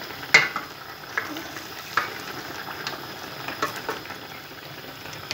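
Galunggong fish fry in a pan, a steady crackling sizzle with scattered sharp pops and spatters, close and fairly loud, with no talking.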